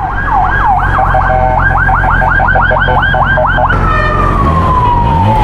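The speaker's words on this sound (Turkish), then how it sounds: "Evet, bir itfaiye daha geldi." A loud fire engine siren wails nearby, switching from a rapid yelp to a long falling tone as it passes, over heavy engine rumble, heard from a motorcycle at a large wildfire in İzmir, Turkey.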